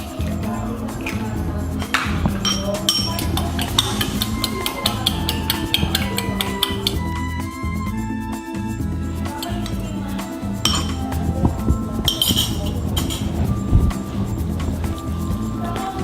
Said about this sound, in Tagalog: Ngayon naman, yung egg. Ibibit lang natin siya sa separate bowl.